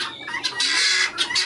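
A farm chicken clucks in a quick series of close, bright calls with short gaps between them, heard without any talking.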